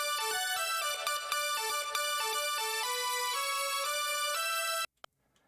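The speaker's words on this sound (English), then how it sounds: "actually there's another synth that is playing a different note" Synth line from a pop song intro played on Halion Sonic SE, bright tonal notes stepping in a melodic pattern over steady accompaniment, ending abruptly with a short click, no voices.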